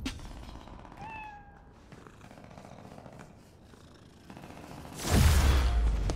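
A cat in the video game Spider-Man: Miles Morales purrs softly and gives a short high meow, followed by a sudden loud whooshing burst near the end.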